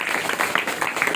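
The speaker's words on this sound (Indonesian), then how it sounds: "Tepuk tangan untuk kita semua ya." Short burst of audience applause at a scouting talk, dense clapping filling the moment at moderate level with no voices over it.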